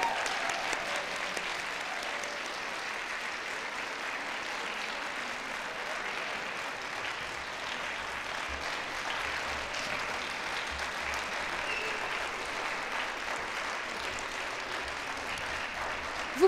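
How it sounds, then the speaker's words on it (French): An audience applauding graduates at a university graduation ceremony, sustained dense clapping from a large hall crowd, steady and even throughout. "applaudissons nos diplômés"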